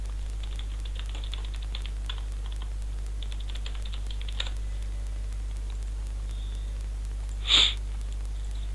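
Bursts of steady keystrokes on a computer keyboard as client-side C socket code is typed, clicking in quick clustered runs with short pauses, over a constant low electrical hum, ending with one louder clack.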